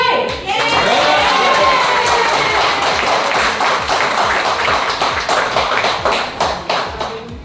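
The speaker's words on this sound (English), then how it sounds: "Group B, are you set to cheer for Group A?" A large business-club audience at a New Delhi event cheers and claps loudly and continuously, a dense roar of voices and hands that fills the whole stretch and tapers slightly toward the end.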